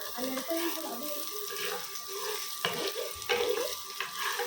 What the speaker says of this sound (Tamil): இப்போ என்னக்கா வெங்காயம் தானே ஒரு 1 மினிட் வதக்கிக்கலாம்